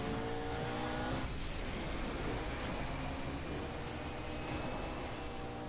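Racing car in a PS4 video game, a loud continuous engine roar with tire squeal and skidding throughout, alone.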